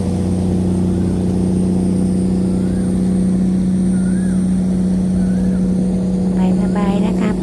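Tugboat convoy on a river in Ayutthaya, a loud, steady low engine drone with strong humming tones throughout and faint higher chirps near the end.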